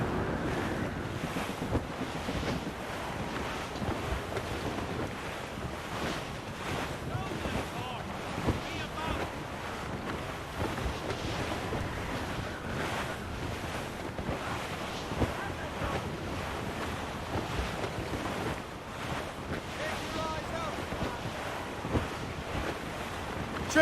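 Wind and ocean waves wash continuously around a sailing ship in Assassin's Creed Rogue, a dense steady roar with gusty surges and faint voices underneath.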